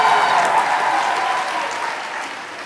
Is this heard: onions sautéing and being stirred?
no